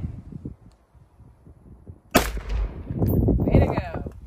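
A single loud, sharp gunshot at a shooting range, after some quiet talk and rustling, followed by a reverberant tail and further voices.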